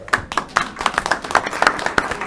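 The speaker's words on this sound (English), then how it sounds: "so we applaud you for that" Audience at a school board meeting applauding elementary students, a brisk run of sharp, close hand claps that continues steadily throughout.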